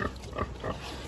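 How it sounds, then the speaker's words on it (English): A thin mother pig with her piglets gives soft, low grunts and snuffles, a few short oinks close by and fairly quiet. "How come Mama Pig is so skinny"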